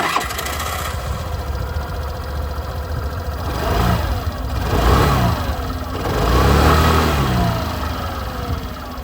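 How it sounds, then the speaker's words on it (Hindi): Exhaust of a 125cc scooter, either a TVS Ntorq 125 Race XP Edition or a Suzuki Avenis 125, recorded close by. The engine idles steadily and is revved in several rising and falling swells, with no talking. "मैं आप लोगों को जो एग्जॉस्ट साउंड है वो भी सुना दूँ अपनी इसकी"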